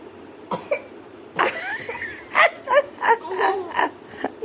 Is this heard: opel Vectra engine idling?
no